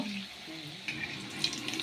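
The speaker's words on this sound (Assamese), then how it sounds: "এনেকৈ ভাজি মই ওলট পালট কৰি দিম।" Pitha fry in hot oil with a soft, brief crackling sizzle that stays fairly quiet and steady, and no one speaks.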